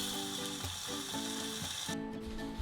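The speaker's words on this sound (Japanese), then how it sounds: "中火で両面軽く焼き目がつくまで焼きます。" Food pan-fries over medium heat, giving a steady, close sizzle that runs without a break, with a faint rhythmic hum underneath.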